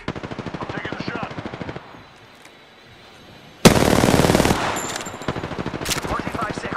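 Rapid automatic gunfire in a battle royale video game, long rattling bursts with a brief lull, then a louder, sharper volley up close, with a voice faintly mixed in.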